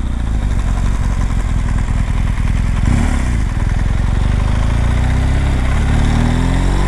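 A BMW 1200 motorcycle engine idles close by with a steady low rumble, briefly revving and then settling back into a rough, throbbing idle.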